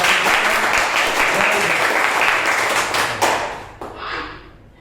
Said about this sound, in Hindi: एक बार जोरदार तालियों से अपने क्लास कर